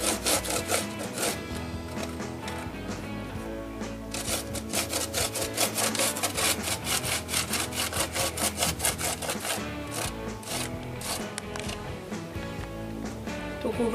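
Lemon zest is grated over cheesecake batter with rapid, rhythmic rasping strokes, close and fairly loud, repeating in quick bursts for the whole stretch.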